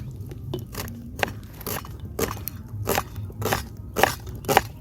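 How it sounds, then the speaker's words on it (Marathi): Onion and tomato being finely chopped outdoors, a series of sharp crunchy knife strikes falling at an uneven pace, close and fairly loud against a low background hum. "फक्त कांदा आणि टोमॅटो वगैरे आणला आहे सो तो पण बारीक कटिंग करून घेऊया"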